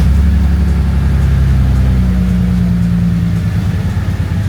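A Bentley engine idles close by after repair work on a hose and electrical connector, giving a steady, low, smooth hum that holds constant for several seconds with no talking.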